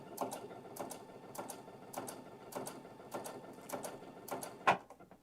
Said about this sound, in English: the machine is actually going to just sew to the right here